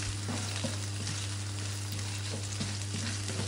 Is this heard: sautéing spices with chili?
yes